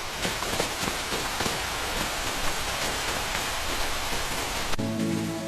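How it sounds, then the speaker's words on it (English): Heavy rain pours down in a dense, steady hiss that stays loud and unbroken, then cuts to a different tonal background near the end. "The rain is getting stronger!"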